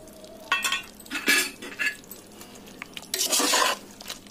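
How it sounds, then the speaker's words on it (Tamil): Aviyal, a Kerala vegetable curry, being stirred after ground coconut paste and curd are added, with a few scraping, clinking strokes of a spoon against the pot in bursts, close and moderately loud, and no talking. "நல்லா மிக்ஸ் பண்ணி விட்டுக்கோங்க."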